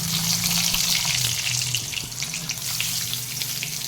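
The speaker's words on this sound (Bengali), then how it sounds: "জিরে আর পাঁচ ফোড়ন যেটা আছে ইয়ে সর্ষে আর পাঁচ ফোড়নটা আমি ফোড়ন দিয়ে দেবো তেলের উপরে" Cumin and panch phoron with mustard seeds tempering in hot oil for a spicy okra and prawn dish, a bright continuous sizzle and crackle up close, with a faint low hum underneath.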